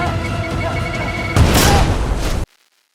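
A grenade blast in a TV drama, an abrupt loud boom with a broad crashing burst that cuts off sharply after about a second, following a stretch of noisy scene sound.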